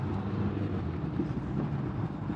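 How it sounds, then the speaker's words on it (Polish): Spare cooling fan running in a Polonez car, a steady, quiet whirring drone with no change and no talk. "Włączamy zapasowy wentylator"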